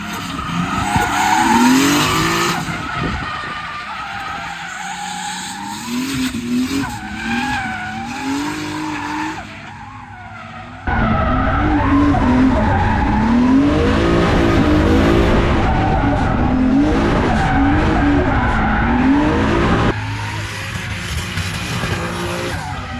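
Rallycross race car skidding and sliding across a dry dirt track, its engine revving and wavering loudly through the slide, with tyres scrabbling continuously and surging louder midway.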